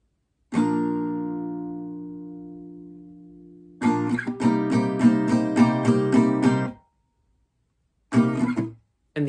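Guitar playing the last two chords of the bridge of a song: one ringing strum left to decay, then a rhythmic strummed passage, a pause and a short final burst of strums, played alone.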